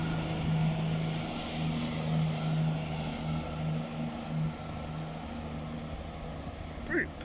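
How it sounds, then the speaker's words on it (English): Class 168 diesel multiple unit departing Oxford station toward London Marylebone, a steady low engine drone and hum building under outdoor ambience, with a brief higher squeal near the end. "And departing is 168 214 towards London Marylebone"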